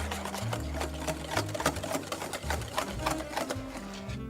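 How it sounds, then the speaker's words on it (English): Eggs for hollandaise sauce are whisked in a bowl, producing rapid, rhythmic mechanical clicking and rattling strokes, loud and close, with a low hum underneath and no speech. "You want to keep whisking until this basically doubles in size."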